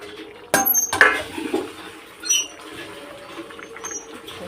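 A lid goes onto a pan of pointed gourd curry cooked with fried pointed gourd, a little sugar, water and slit ripe chillies. Two sharp metallic clinks land close together, then a few softer clatters fade into quiet room noise.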